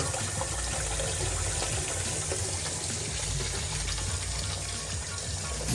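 Water gushes steadily into a dunk tank in a print shop. The pour is loud, close and continuous, with no pauses and no talk over it.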